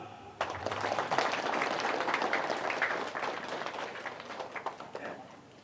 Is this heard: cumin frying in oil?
no